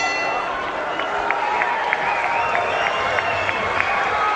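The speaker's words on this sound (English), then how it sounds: "The crowd loves it." At a boxing match, a large arena crowd keeps up a steady roar of cheering and shouting, with scattered sharp whistles rising above it.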